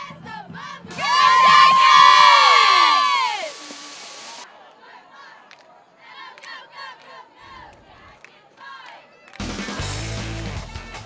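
Crowd and cheerleaders at a high school football game roar with loud, sustained shouting and cheering, followed by quieter scattered voices and chatter, then another burst of noisy crowd sound near the end.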